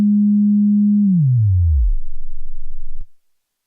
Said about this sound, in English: That is a beautiful self-oscillation. You're getting a very nice sine wave.